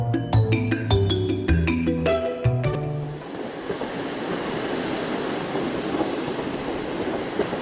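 A train ride in the Sakura School Simulator video game begins with a short bright chime melody. A steady rolling rumble with faint rhythmic clatter follows, loud and continuous, with no talking.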